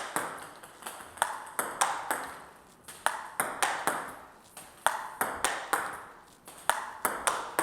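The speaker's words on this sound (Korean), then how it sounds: "그럼 확실하게 공이 더 맞는 소리나" A table tennis ball is struck repeatedly during drive-swing practice, giving sharp, bright pings at a steady, fast rally rhythm, close and clear with no talking over them.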